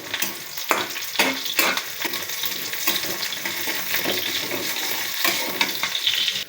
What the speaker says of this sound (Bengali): রসুন ও পেঁয়াজ দিয়ে তেলে দিচ্ছি।